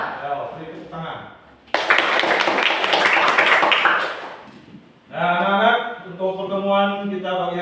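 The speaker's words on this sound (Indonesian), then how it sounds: "Ya, beri tepuk tangan." Classroom of students clapping in a burst of applause for a classmate's correct answer during a seventh-grade maths lesson, loud and dense for a few seconds between stretches of a teacher talking.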